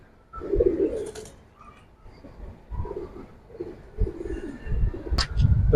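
Pigeons, including khaki and colored fancy breeds and Giribaz, coo in low, soft, repeated calls, fairly close, with scattered chirps and faint background noise.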